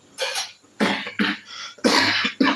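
Several harsh, loud coughs in quick bursts with short pauses between them, close by, with no talking.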